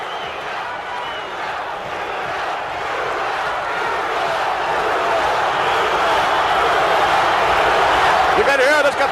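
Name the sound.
capacity wrestling crowd chanting Bruno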